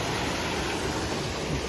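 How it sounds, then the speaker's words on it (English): Waterfall at Disney's Animal Kingdom, a steady broadband rush of falling water heard close and continuous throughout, with no talking. "There's the waterfall. Man, that sounds so good."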